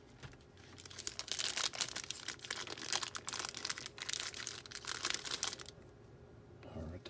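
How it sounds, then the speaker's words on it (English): Plastic packaging of a Masters of the Universe/WWE Kane action figure being cut open at close range, a busy stretch of crinkling, snipping and tearing crackle lasting several seconds before easing off. "So we'll go ahead and cut this open."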